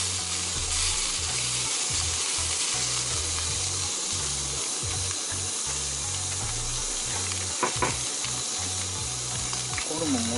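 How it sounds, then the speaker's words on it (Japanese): Seasoned pork offal (horumon) on a grill at a home drinking session, crackling and sizzling continuously at close range, with faint background sounds and occasional soft clatter. "ホルモンもうちょっとまた焼いとこう。"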